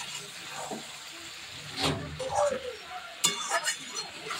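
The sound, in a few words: chicken and potatoes being stir-fried (kosha) in a pan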